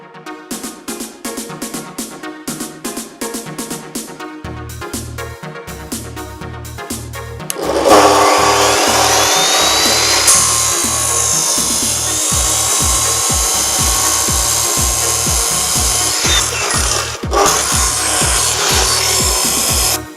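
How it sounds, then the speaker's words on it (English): A chop saw cuts metal pieces in a welding workshop. Close rhythmic scraping strokes come first, then a loud, sustained screeching cut takes over with a rising whine and keeps going with brief dips. "I have to cut these out using the chop saw."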